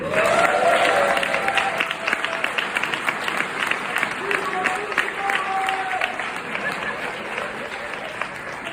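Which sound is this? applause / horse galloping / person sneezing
applause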